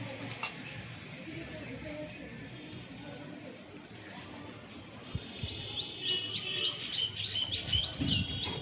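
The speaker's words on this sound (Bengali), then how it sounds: "আমার ভিডিওর মধ্যে তোমরা অবশ্যই শুনতে পারবে পাখিদের কিচিরমিচির আওয়াজ" Birds chirp and tweet in a tree beside a rooftop garden, steady background chatter that turns into a brighter run of repeated close calls in the last few seconds.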